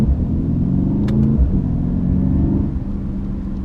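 A Mercedes C63 AMG's exhaust rumbles loudly and steadily from close by during a downshift, with a brief rise in engine note before settling back into a deep drone.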